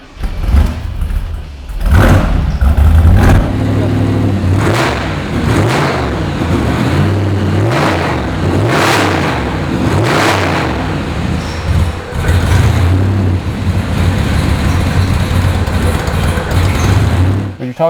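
A 1979 Chevrolet Corvette Greenwood with a supercharged 383 stroker V8 runs loud and close, rumbling at idle between several sharp throttle blips and revs.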